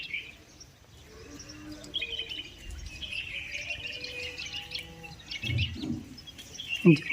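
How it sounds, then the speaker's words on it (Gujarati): A flock of small sparrows chirps in a village setting by a river, faint overlapping tweets spread through the clip with a few closer calls near the end. "નાની નાની ચકલીઓ પણ કેટલી બધી આવી ગયું"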